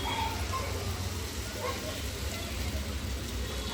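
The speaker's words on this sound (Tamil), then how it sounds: "ஸோ இப்போ தண்ணி தெளிக்க போகிறேன்" Water sprinkled onto an ivy gourd stir-fry in a hot pan gives a soft, steady sizzling hiss, fairly quiet and close, continuing evenly without talk.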